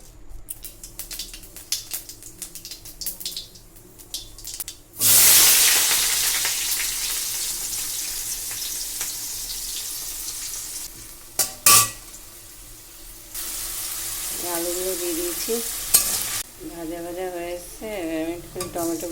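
Vegetables hit hot oil in a wok while ghugni is being cooked, a sudden loud sizzle that settles into a steady frying hiss with a clank of cookware and a voice talking later.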